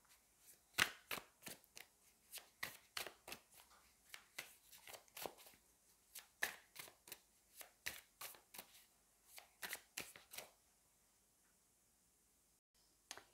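Tarot cards being shuffled and drawn, a long run of quick crisp riffling and slapping bursts in an irregular rhythm, close and quiet, ending in near silence.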